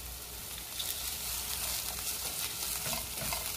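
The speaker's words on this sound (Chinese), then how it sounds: "用一隻平底锅加一啲油之后，烧热锅用中大火，加埋啲洋葱同埋鸡丝落去" Onion and shredded chicken fry in an oiled pan over medium-high heat, giving a steady, close, even sizzle with soft stirring scrapes and no talk.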